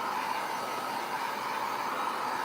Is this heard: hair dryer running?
yes